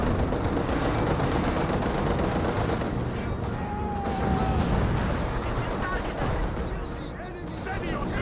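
Gunfire from a Guard infantry squad in Company of Heroes 2, a dense, steady wash of distant rifle and machine-gun fire with battle rumble, running without a break under a commentator's voice.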